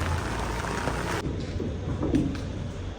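Steady rain hisses close by, a dense wash of falling water, briefly dampened partway through as if indoors.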